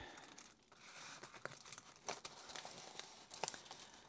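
A diamond painting canvas, glue side in mind, is folded over by hand with soft, continuous crinkling and crumpling, punctuated by a few sharper crackles, close up with no talk.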